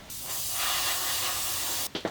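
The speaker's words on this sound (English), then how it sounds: "So I'm gonna go spray that last spoon really quick" An airbrush sprays thinned paint onto a spoon in a steady, close hiss that lasts nearly two seconds, then ends in a few short bursts.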